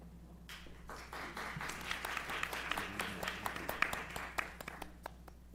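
Scattered applause from an audience at a university lecture event, moderately distant, building into a fuller patter of individual claps with sharper isolated claps toward the end.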